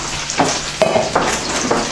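Food sautéing in a pan, a steady close sizzle broken by a few rhythmic stirring scrapes.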